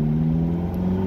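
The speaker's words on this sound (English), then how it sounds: "Now this is one of the last great naturally aspirated V8 engines that Ferrari made." A Ferrari F430 Spider's naturally aspirated V8 holds a steady, fairly quiet hum with a clear low tonal drone, heard briefly and alone without any voices.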